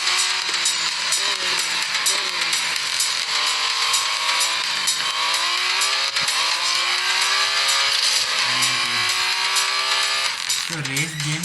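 Car engine in a racing video game, revving steadily with rising and falling engine pitch sweeps throughout, loud and continuous, under dense game sound and background music, with a brief shift near the end.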